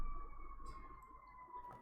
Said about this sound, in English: I don't know if people can hear the siren outside my window